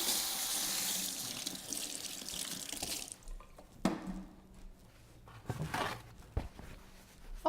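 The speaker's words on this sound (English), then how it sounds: "I need to go wash my hands because I got sauce on it." Water from a kitchen or bathroom tap runs steadily into a sink while hands are washed, a broad hiss for about three seconds, then stops, followed by scattered drips, splashes and small handling knocks.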